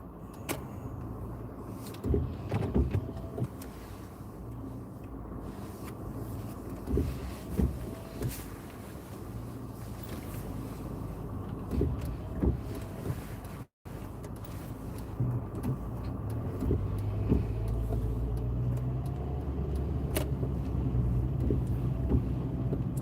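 A car pulls away during a driving test, its engine and road noise steady under faint cabin rattles and clicks, with no talking, the hum growing slightly heavier toward the end.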